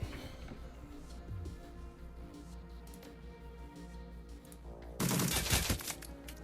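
Gunfire effects in a Shadowrun tabletop actual-play session: a murky, continuous background of shots runs through most of the stretch, then a loud, dense burst of firing erupts near the end and fades out.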